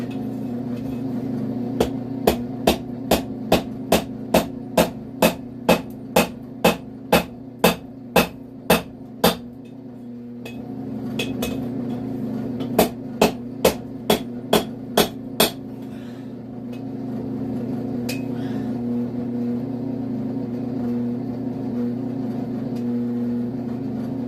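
Hammer blows ring out on hot chain links during a forge weld, a fast steady run of sharp metallic strikes, a pause, then a second shorter burst over a low forge roar.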